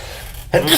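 Single abrupt sneeze bursting out after a stretch of quiet room tone, loud and close, with a short tail afterward.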